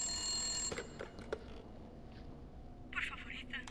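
A telephone rings in the horror video game Resident Evil Village, a faint trilling ring cutting through dense game ambience and a murmur of voices.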